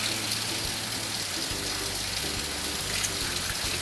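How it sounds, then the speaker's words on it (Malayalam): Vinegar streams over washed chicken in a continuous, fairly loud splashing pour, with a low hum running steadily underneath. "വിനാഗിരി ഒഴിക്കുകയാണ്, വിനീഗർ"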